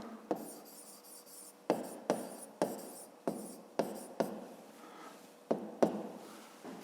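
Handwriting on paper while working a fifth-grade maths exercise: a series of sharp pen taps followed by short scratchy strokes, close and fairly quiet, with no talking.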